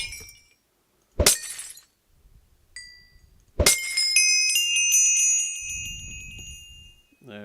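Two separate glassy smashes of experience bottles breaking in Minecraft, a quieter plink between them, then the bright chiming level-up jingle ringing out and fading over a low background rumble in the video game.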